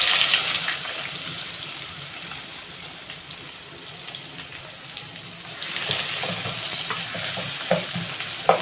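Finely chopped onions frying in oil in a pan for beef qeema karahi, a steady close sizzle with stirring scrapes, swelling louder toward the end.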